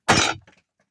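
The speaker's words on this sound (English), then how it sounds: "Why don't I smash them with the axe?" An axe smashes down on garlic in a single sharp, loud crack, followed by a brief scatter of small bits and then silence.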